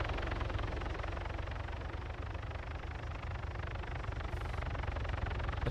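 Steady, dense rotor and engine roar of a helicopter in the video game Arma 3, continuous and fairly loud throughout with no talking.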